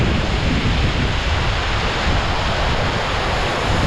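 A tall waterfall in the Konkan, beside a highway, rushes with a dense, loud, continuous roar of falling water, steady throughout without any voices.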